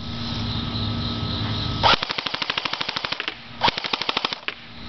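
A JG T3 Shorty airsoft gun fires full auto in two rapid bursts, each a close, sharp string of evenly spaced cracks at a high rate of fire, separated by a brief pause.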